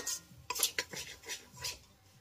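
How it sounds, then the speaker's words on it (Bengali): Moong dal is sautéed with spices and ghee over a low flame, heard as a short run of spoon clinks and scrapes against the pan, quick and close, with only a faint sizzle beneath. "এইভাবে মুগ ডালটাকে আমি মশলার সঙ্গে এই 3 থেকে 4 মিনিটের মতো একটু লো ফ্লেমে কষিয়ে নেব"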